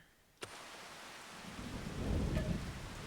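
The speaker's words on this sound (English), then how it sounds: "Thunder." Thunder in Farming Simulator 25: a sharp crack opens, then a deep rumble swells and rolls on over steady rain hiss, with no voices.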